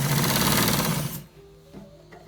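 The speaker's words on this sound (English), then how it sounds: "So we are stitching it to the top." Sewing machine running loud and steady while stitching a white trouser to its top part, cutting off after about a second to near quiet with faint handling noise.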